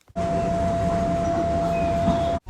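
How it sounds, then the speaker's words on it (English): A Tyne and Wear Metro train rides the yellow line toward Pelaw, giving a steady, loud rolling rumble with a faint sustained whine heard from inside the carriage throughout. "we travelled up the yellow line on the Tyne and Wear Metro to Pelaw"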